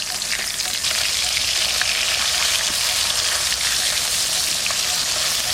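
Hilsa fish frying in hot oil gives a loud, continuous hiss and sizzle with small crackling pops, steady from start to finish with no voices.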